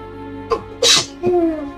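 One loud, sharp sneeze bursts out close to the mic during a tabletop D&D game, after a brief inhale, with soft voices and low hum around it.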